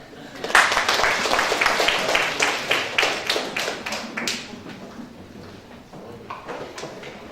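Audience applause for a student team that has just presented its BookBox project in an advanced Java course, a dense burst of clapping that swells quickly, holds for about four seconds, then thins to scattered claps.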